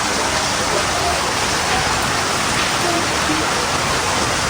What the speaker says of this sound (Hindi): इतनी प्यारी बारिश हो रही है, इतनी ज़बरदस्त।